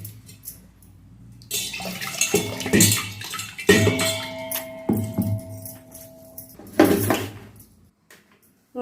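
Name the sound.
water being added to idli batter for grinding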